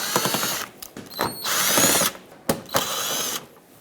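A power screwdriver backs out Phillips head screws from a 2012-2018 Nissan Altima bumper, several short close whirring bursts separated by brief pauses.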